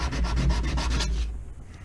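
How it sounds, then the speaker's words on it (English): Sandpaper rubs back and forth across a surface in quick, rhythmic strokes, close and fairly loud, ending abruptly and leaving a quieter stretch at the end. "I think I need a new piece of sandpaper."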